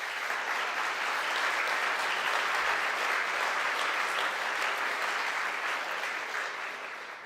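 Sustained applause from a large audience at a ceremony marking a $25 million gift to Saskatchewan Polytechnic, steady and dense throughout, tapering slightly at the end.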